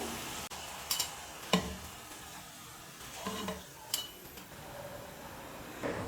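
Plantain bondas frying in hot oil give a low, steady sizzle, broken by a few sharp clinks and scrapes of a metal utensil against the pan.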